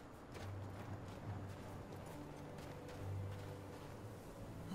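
Quiet clip-clop of horse hooves in the video game Skyrim Special Edition, in an even walking rhythm, soft and somewhat distant over a faint low hum.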